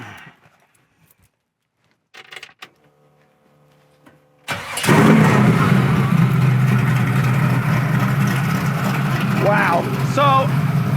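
A 1968 Camaro SS with exhaust cutouts cranks briefly after a few faint clicks, then fires loudly into a rough, rumbling idle with blips of revving, close by and dominating the scene.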